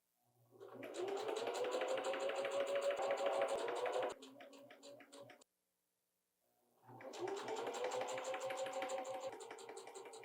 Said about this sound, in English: now I'm going to do the large machine stitch